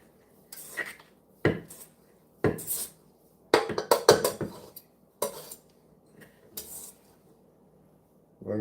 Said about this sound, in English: Now we're going to stir this up.